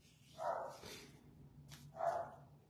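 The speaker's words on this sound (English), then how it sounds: "My dog is here with me, as you can well tell. Barky little thing." A small dog barks indoors, two short, fairly faint yaps about a second and a half apart over quiet room tone.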